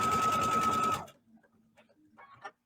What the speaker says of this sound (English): I am just going to go ahead and sew all the way around.